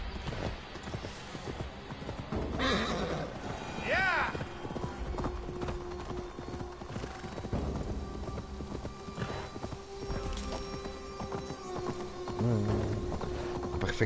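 A horse in the video game Assassin's Creed Valhalla clip-clops along with steady hoofbeats and lets out a short whinny, mixed with game ambience and someone talking over it.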